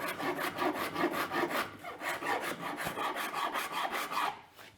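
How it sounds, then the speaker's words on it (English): A Japanese saw rasp scrapes ash wood from a Strat-style guitar body in fast, even back-and-forth strokes, close and crisp, about a dozen rhythmic rasps with no talking. "the Japanese saw rasp is an animal of a tool for removing material"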